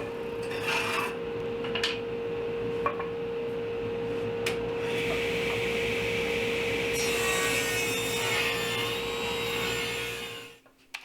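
Wooden bottom rails for a farmhouse coffee table frame are cut with a power saw. A steady, loud whine and grinding rasp run close and continuous before cutting off near the end, with no talking.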